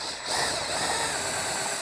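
A power drill fitted with a 7/32 bit runs through a pilot hole on a Honda CBR/VFR800 hybrid motorcycle build, giving a steady, close, continuous whirring grind that holds for the whole stretch with no pauses and no voices.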